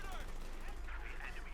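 Machine gun and autocannon fire rattle in a Company of Heroes 2 battle against troops in cover, a quiet, steady stream of distant shots running beneath a commentator's voice.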